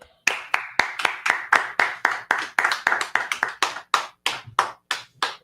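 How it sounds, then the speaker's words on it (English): A group in a brotherhood class claps in unison, sharp, loud, evenly spaced claps repeating in a steady rhythm of roughly three per second, close and distinct with nothing else heard. "clap it up"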